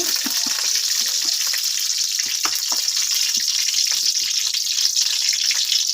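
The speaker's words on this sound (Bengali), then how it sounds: "এখন ডালটা তেলে দিয়ে দেব তার কারণে কড়াইতে তেল দিয়ে দিচ্ছি" Dal sizzles in hot oil in a kadai with garlic, a loud, constant frying hiss with small crackles and pops close by, no voices over it.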